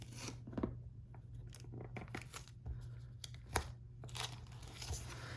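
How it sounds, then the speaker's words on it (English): Adhesive tape peeled away from a handmade knotted string bracelet, heard as faint, close rustling and tearing crinkles in short bursts against a low steady hum, with no talking. "I'm going to take my tape off and flip my bracelet over"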